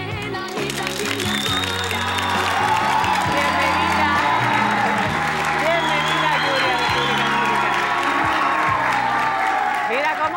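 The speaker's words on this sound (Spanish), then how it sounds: "Lo que pasa es que está toda mi familia ahí, por eso aplaudí." A studio audience, the family of a singer's interview guest, bursts into sustained applause with whoops and cheers over a steady roar of clapping that fills the room, while voices talk faintly underneath.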